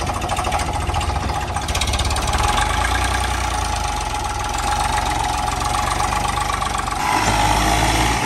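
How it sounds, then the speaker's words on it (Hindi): A Swaraj 963 FE tractor fitted with a JCB attachment labours under a heavily loaded trolley in mud. Its diesel engine makes a loud, continuous, knocking rumble close by that swells slightly near the end, with no talking. "ट्रैक्टर लोड नहीं मार पा रहा।"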